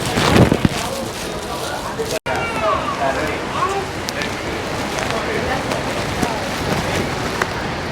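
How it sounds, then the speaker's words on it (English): Loud, blustery wind buffeting a half-covered microphone at Niagara Falls, with steady broadband rumble and crackle throughout and a brief dropout early on. "It's pretty windy and the mic is half covered."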